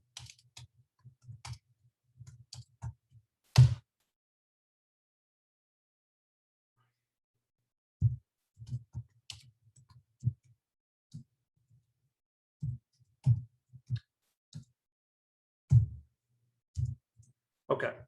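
A computer keyboard tapped in short clustered bursts of clicks, with a long quiet pause in the middle before a second, steadier run of keystrokes; close and fairly soft, with no talking.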